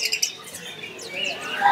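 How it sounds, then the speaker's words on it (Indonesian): Local perkutut kalung tepuk (zebra doves) at a bird market kiosk, with short chirps and call notes over faint background murmur and bustle. "ini ada yang namanya burung perkutut lokal kalung tepuk"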